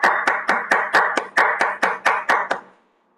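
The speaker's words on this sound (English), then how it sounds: "can we have a round of applause?" A round of applause at a virtual Toastmasters club meeting, about a dozen crisp evenly spaced claps, close and loud, stopping abruptly and leaving near silence.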